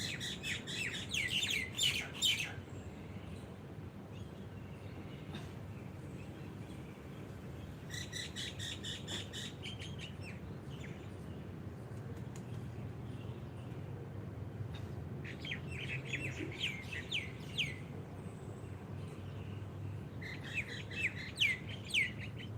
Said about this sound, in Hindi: पक्षियों की मधुर चहचहाहट और बंद आंखों में सुंदर प्राणायाम।